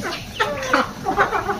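Chickens and ducks being fed corn make a close run of short, repeated clucks and throaty calls that overlap in quick bursts.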